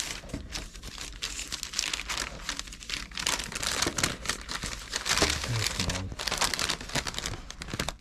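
Paper bag of bakery food holding a sausage roll, caramel slice, cream Belgian bun and fresh cream donut, rummaged through up close, with continuous crinkling and rustling on a boat.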